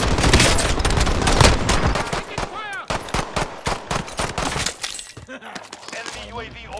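Rapid bursts of automatic gunfire from a Call of Duty Warzone match, dense sharp cracks in quick succession that thin out toward the end, with a voice briefly talking over the shooting.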